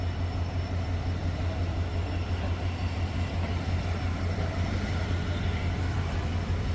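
Yal Devi train running through a railway stretch near Chavakachcheri station, heard as a steady, continuous low rumble of rolling carriages with a constant drone and no distinct breaks, fairly close and without voices.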